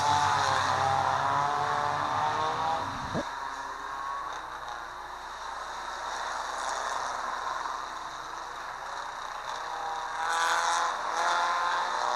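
Race cars at Seven Rivers Racing lap slowly under caution, their engines a continuous droning hum that swells and fades as they pass, with a sharp cutoff early on and no talk.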